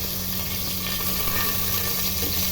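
Ginger sizzles in hot oil in a pressure cooker, giving a steady, loud frying hiss that runs unbroken from start to finish with no voices.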